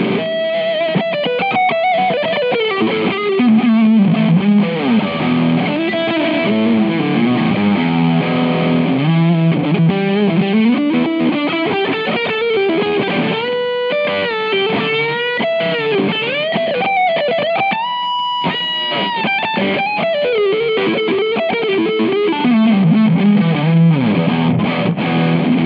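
Distorted electric guitar from an Epiphone Les Paul Custom on the rhythm pickup, played continuously with chords and sustained single-note lines, loud and close with no talking.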